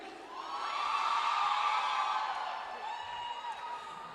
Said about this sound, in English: Let's cheer up once more for him.